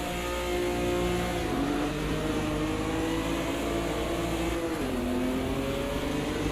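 Race car engine in the Automobilista 2 racing game, a loud steady drone with pitch rising and dropping through gear changes, continuous and close.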